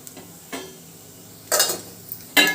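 Mustard seeds and cumin seeds hit hot oil in a pressure cooker, giving short bursts of crackling sizzle, two louder spurts separated by quieter stretches of faint hiss and a few light clinks.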